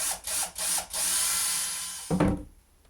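A power drill with a smaller bit bores into wood in short bursts, whirring and revving near the mic, then stops and leaves quiet.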